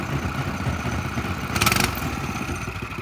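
A Cadet go-kart's small engine starts and runs with a steady, buzzy, low rumble, with a short rattling rise partway through.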